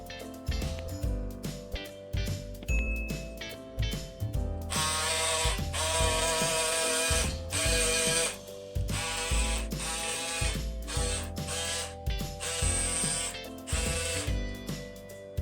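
Denim fabric pieces are cut for a beret in a steady run of rhythmic, crunchy snips and mechanical clicks. The sound stays close and continues without any talk.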